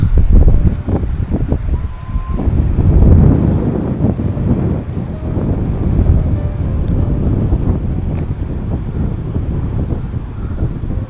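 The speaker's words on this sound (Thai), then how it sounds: "ขึ้นมาเทิงนี้ลมแหงเนาะ" Strong wind buffets the microphone in loud, rolling gusts for several seconds on the bank of the Mekong River, with a faint wash of water beneath and no talking.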